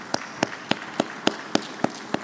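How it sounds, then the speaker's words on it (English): A conference audience at an African summit claps in slow, even unison, eight sharp beats spaced evenly across a couple of seconds with no talking. "Ladies and gentlemen, a round of applause for them once again."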